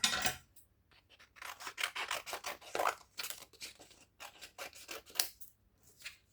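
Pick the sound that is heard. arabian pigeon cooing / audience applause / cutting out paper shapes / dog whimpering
cutting out paper shapes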